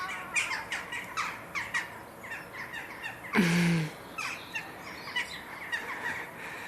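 Sparrows chitter up in an olive tree, a scatter of short chirps and squawks coming at an uneven pace from a little way off, with one louder call partway through over faint outdoor background.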